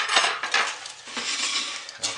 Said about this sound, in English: I'm going to go ahead and scrape this because it looks like I'm staying pretty thin.